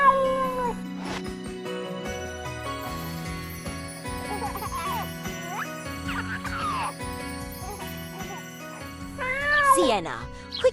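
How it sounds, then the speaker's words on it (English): Stray cats meow repeatedly in drawn-out, wavering cries close by, some rising into caterwauls, with a faint jingle and voices talking around them. "quickly chase those stray cats away"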